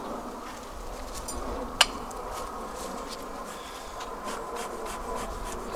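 Honeybees at an opened sage hive give off a faint, steady buzzing, with a single sharp click partway through and no talking.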